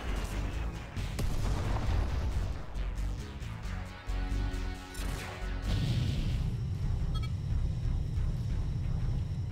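Space combat in Freespace 2: dense, continuous weapons fire and booming explosions, a heavy rumbling barrage that swells and drops around the middle before surging back loud, with no voices.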